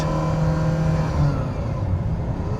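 A Ferrari Mondial's engine hums steadily while driving, a smooth continuous drone with a low tonal note, heard from inside the car with no talking.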